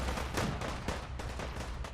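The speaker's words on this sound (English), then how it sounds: "Okay, so I got shot for 4 damage. Lots of explosions happening." Gunfire and explosions in a Fallout 4 firefight, a dense, continuous barrage of sharp shots and booming blasts layered over one another without pause, loud and busy throughout.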